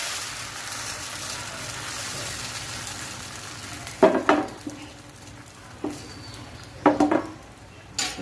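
Neer dosa batter is ladled onto a hot pan and spread around, giving a soft steady sizzle broken by several sharp clatters of the ladle against the pan.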